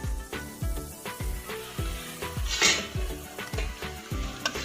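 Carrots frying in ghee for gajar halwa sizzle steadily in a pan, with a rhythmic run of spoon scrapes and light metal clinks from continuous stirring, close and fairly loud.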